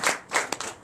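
Worshippers at a Sunday church service in Comè, Benin clap a few times, three quick, fairly faint claps spaced unevenly, close by and with no talk over them.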